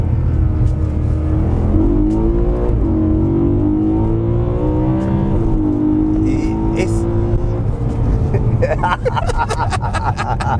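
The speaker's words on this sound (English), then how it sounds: "It's nice because you sort of feel encouraged to rev it out all the time." BMW M3 Competition engine, about 15 years old, revving steadily with a rising and falling tone throughout, loud and continuous, with people talking over it inside the car.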